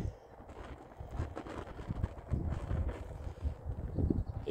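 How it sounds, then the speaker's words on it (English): Gusty wind buffeting an outdoor microphone beside a fire pit, faint rumbling bursts rising and falling throughout with no talk. "It is very windy out here"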